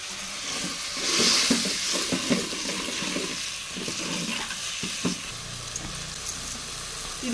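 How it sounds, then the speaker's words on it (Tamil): Thick tamarind paste sizzling and bubbling in a pan, a steady hiss with scattered pops and occasional stirring clinks, close by. "பாருங்கள் கொதிக்க வந்து ஆரம்பிச்சிச்சு புளி"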